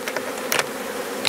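Honey bees buzzing around a hive box during a shook swarm, a close, steady hum of many insects with brief louder passes of individual bees.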